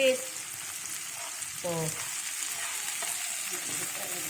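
Quiet, steady sizzle of sliced tomatoes stir-fried with baby squid in a hot pan, with occasional stirring scrapes over the frying hiss and a brief spoken word.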